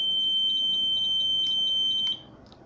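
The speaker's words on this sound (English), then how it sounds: "the buzzer should be continuously on" A vehicle control system buzzer with a GSM modem sounds a continuous high electronic tone for about two seconds after a wrong password, then cuts off, leaving quiet room noise.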